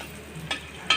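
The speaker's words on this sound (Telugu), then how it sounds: "ఎల్లిపాయ కావాలన్న వాళ్ళకి వేరే ఇట్లా వేయించి దాంట్లో కలుపుతున్నాం" Garlic fries in peanut oil for gongura pickle, a brief soft sizzling hiss with two short crackling bursts, close and quiet.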